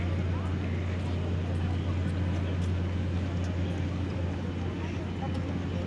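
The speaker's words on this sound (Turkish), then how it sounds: "Şimdi bir gemi kalkıyor yine." A large ship pulls away from a pier on the Istanbul waterfront, giving a steady low engine drone with broadband wash and harbor ambience throughout, close and continuous.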